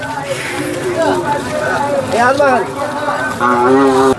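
Several cattle low and moo in loud, drawn-out calls at a bull market in Sangola, overlapping with a busy crowd murmur close by.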